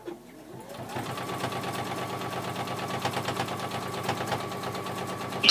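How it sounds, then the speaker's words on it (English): Sewing machine stitching closed the turning gap on a cosmetic bag, running steadily and fairly loud for about four and a half seconds after a brief start-up, with no talk. "we're going to sew up that turning through gap now that I've stopped talking"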